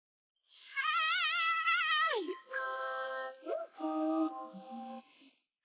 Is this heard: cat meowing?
yes